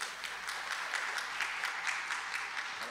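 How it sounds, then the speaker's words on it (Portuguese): Audience applause at a Brazilian state government ceremony launching an integrity plan, faint and distant, a steady even patter of many hands. "Uma salva de palmas."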